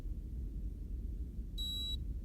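A handheld device placed in the ear, likely a thermometer, gives a single short high-pitched electronic beep lasting about half a second over a steady low background hum.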